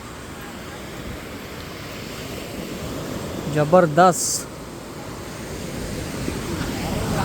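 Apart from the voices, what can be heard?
ocean waves at Chivla beach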